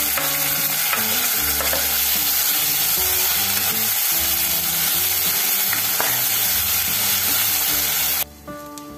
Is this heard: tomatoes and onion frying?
yes